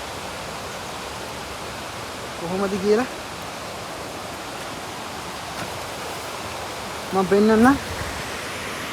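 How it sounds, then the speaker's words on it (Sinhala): Rushing water at Paradise waterfall in Sri Lanka, a steady broadband roar filling the whole scene, with someone briefly speaking twice over it. "මම පැරඩයිස් ඇල්ල ගාවට ආවා."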